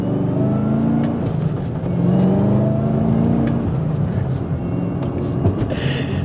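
Chevrolet Camaro ZL1 engine pulling hard under acceleration on a road test drive, a loud steady roar heard from inside the cabin that holds strong throughout with a slight swell midway.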